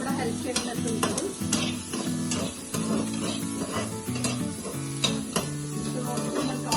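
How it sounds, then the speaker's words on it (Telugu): Onion, green chilli and garlic fry in a pan with a steady sizzle, while a utensil stirs and scrapes against the metal in repeated close knocks and clinks. "ఆనియన్ అండ్ పచ్చిమిర్చి వెల్లుల్లి ఇందులో వేయించాను నేను."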